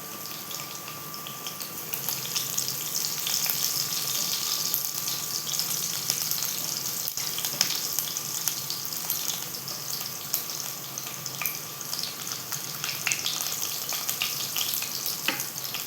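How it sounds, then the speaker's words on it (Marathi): Crushed garlic cloves fry in hot oil with cumin seeds in a pan, giving a loud, steady, close sizzle that continues unbroken, with occasional faint clinks. "आता आपण त्यात टाकूया लसूणच्या पाकळ्या चेचून घेतल्या"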